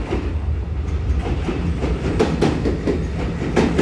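A ten-car EMU900 electric multiple unit commuter train departing Beihu on Taiwan's Yilan line: a loud, close steady rolling rumble with rhythmic clickety-clack wheel beats over the rail joints.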